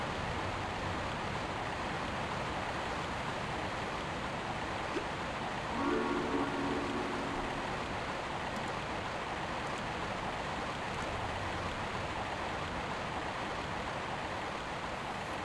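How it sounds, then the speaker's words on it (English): A waterfall in Tomb Raider Remastered gives a constant broadband rushing roar, steady and enveloping from start to finish, with a faint brief tonal sound in the middle. "Waterfall is satisfying for real."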